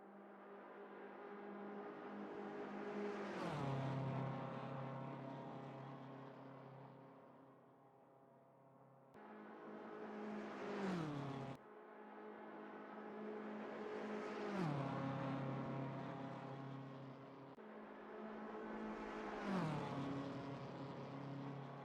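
A BMW M4 GT3 race car engine in a racing video game howls onboard through repeated gear runs, rising in pitch, dropping sharply at each shift and easing off between pulls, loud and continuous with no talk.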